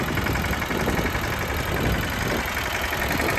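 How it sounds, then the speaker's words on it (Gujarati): A Swaraj tractor engine runs close by in a farm field, a steady loud mechanical drone with a rough, pulsing chug and no talk over it. "ટ્રેક્ટર આવે છે"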